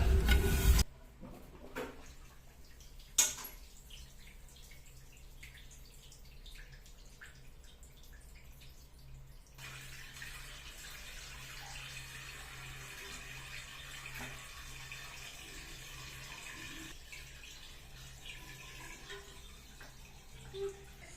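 Water runs in a steady, continuous flow from a toilet flush hose while a toilet bowl flush valve is being replaced, a low constant rush with a brief louder burst near the start and no talking.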